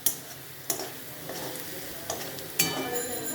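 Potato pieces fry in a pan with a soft steady sizzle, broken by several sharp clacks as a utensil stirs them against the pan.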